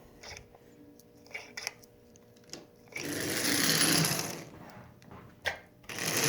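An antique Marx toy motor with a repaired forward-reverse lever runs, giving a close, steady whirring buzz for a few seconds after some clicks and handling noises.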